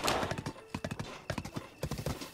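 Horse hooves clip-clop in a steady, rhythmic gallop on the starter horse in Zelda: Breath of the Wild, with a brief whinny near the start; the hoofbeats come in close, repeated bursts.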